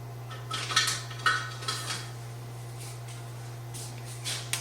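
A spoon scrapes and clinks against a bowl while folding frozen, well-drained zucchini into cake batter, a few sharp metallic taps and scrapes over a steady low hum, close and fairly quiet.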